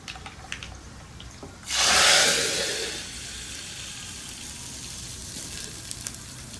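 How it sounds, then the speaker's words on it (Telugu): A sudden burst of loud sizzling as tempering spices hit hot oil, hissing strongly for about a second before settling into a quieter, steady crackle. "ఇదిగోండి తాలింపు అయితే వేగిపోయింది ఇప్పుడు మనం అందులో వేసేసుకున్నాము"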